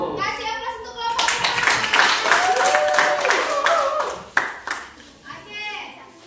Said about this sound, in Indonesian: Kasih aplaus untuk kelompok